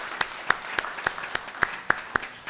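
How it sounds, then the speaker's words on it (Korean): A Korean church congregation at a Sunday service at Oakland United Methodist Church claps to welcome a new member, the claps falling in a steady, evenly spaced rhythm, moderately close, with no talk over them. "한번 일어나 주시면 우리 박수로 환영하겠습니다"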